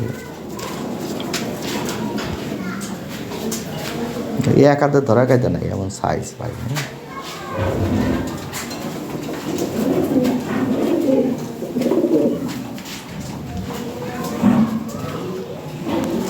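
Fancy Lahore pigeons coo softly in the background while someone talks over them almost throughout.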